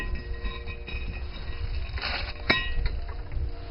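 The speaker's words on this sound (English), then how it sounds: "and then remove the rotor" A brake rotor comes off the front hub of a 2005 Mercury Montego AWD with faint, scattered metallic clinks and one sharper clank, all quiet and close.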